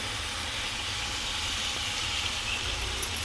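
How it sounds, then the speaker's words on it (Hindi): Minced meat (keema) frying in a pan for samosa filling, a steady close sizzling hiss that holds evenly throughout with no talk over it. "बस अब इसकी भुनाई हो रही है।"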